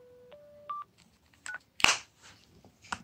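A few electronic mobile phone key tones, steady beeps at different pitches like a Motorola W755's, followed by soft clicks and handling noises, close and fairly quiet.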